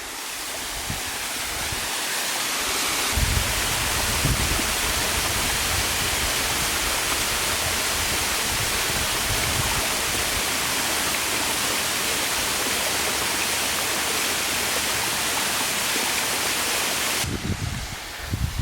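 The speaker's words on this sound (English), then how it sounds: "we get a view of the spillway falls coming off of Greenfall Pond" Spillway waterfall pouring off the Greenfall Pond dam, a steady, loud broadband roar of falling water that fills the whole stretch without a break, with a few low thumps near the start and end.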